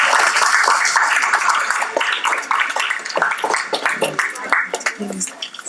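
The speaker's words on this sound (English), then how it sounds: "There's a low bar for applause within the group." A small group in a church study session breaks into applause, with a dense burst of clapping that thins into scattered claps and voices talking over it.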